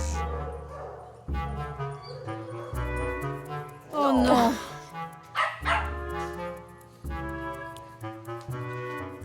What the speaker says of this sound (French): Tanya, j'ai vu les chiens sans surveillance toute la journée